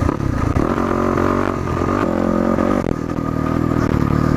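A Yamaha WR450F dirt bike engine revs under throttle while riding, a loud steady motor drone with pitch rising and falling as the gas is applied, no talking over it.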